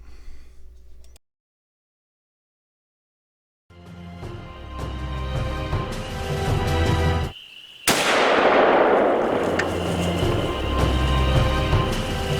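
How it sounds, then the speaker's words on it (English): A single loud gunshot fired during a bear hunt cracks out sharply after a stretch of rustling and a brief silence, followed by a long echoing decay and ongoing outdoor noise. "I just shot one."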